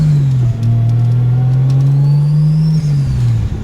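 A car engine with a front-mount intercooler and turbo idles and revs loud and close, a steady droning note holding under small dips in throttle, with no talk over it.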